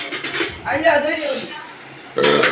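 Plates clatter and clink as they are stacked and gathered into a bag, with a person talking in between the bursts of clattering.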